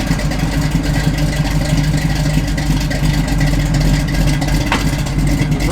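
A 1968 Chevrolet Camaro RS/SS engine runs at a steady idle, its exhaust giving a constant low rumble throughout with no talk over it.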